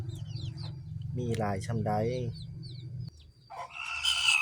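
Farm chickens cluck and crow close by, with a rooster-like call rising over a low background hum; someone talks over part of the clip.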